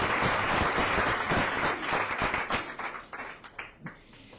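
Audience applause for a guest during a music interview programme, a full burst of many clapping hands that fades into scattered individual claps by the end.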